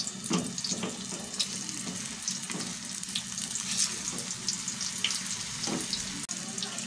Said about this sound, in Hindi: इसको मैं फ्राई करके निकाल लूँगी। इसको पलट लूँगी मैं।